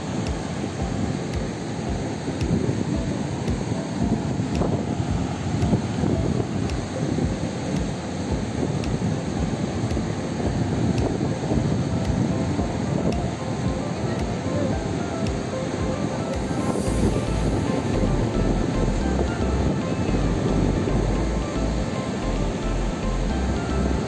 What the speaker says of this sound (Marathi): जास्तच पाणी सोडत आहेत ना